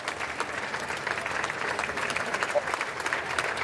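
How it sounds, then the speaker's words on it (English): A crowd applauds and claps at a distance as the new prime minister leaves Downing Street, the sound steady and diffuse throughout. "Now applause echoes as he leaves and heads towards Buckingham"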